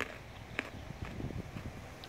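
Crunchy dried jackfruit chips being bitten and chewed up close, with a few sharp crunches followed by quieter, irregular chewing crackles.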